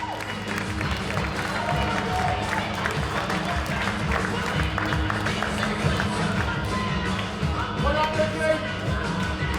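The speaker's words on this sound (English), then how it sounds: "Give the other competitors a huge round of applause as they leave the stage" A crowd claps and cheers steadily in a dense wash of applause at a bodybuilding show as competitors leave the stage, with a voice talking over it.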